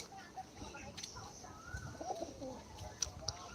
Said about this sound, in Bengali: আর পায়রা দেখতে পাচ্ছেন